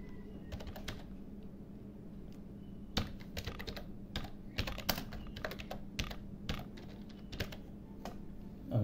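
Someone types on a computer keyboard in short irregular bursts of quick key clicks with brief pauses between, soft and close, with no talk.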